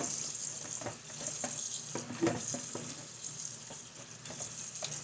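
Cold tap water runs steadily over drained pasta noodles in a colander, a faint, continuous hiss with soft splashing and occasional clinks throughout.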